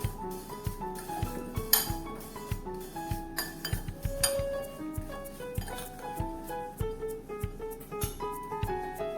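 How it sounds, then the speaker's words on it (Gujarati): A spoon stirs salt and turmeric into raw mango pieces for a sour pickle, making a quick, irregular series of light metallic clinks and scrapes against a bowl, close and fairly soft. "ચમચીની મદદથી મિક્સ કરીએ."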